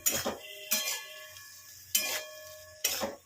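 Prawns with salt and sugar stirred in a pan, four distinct metallic clinks and scrapes of a utensil against the pan spaced irregularly, close and quiet with no talk.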